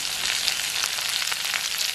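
Onions sizzle in hot oil in a pan for a Tamil-style brinjal curry, a dense, steady crackling hiss with scattered pops and no talk.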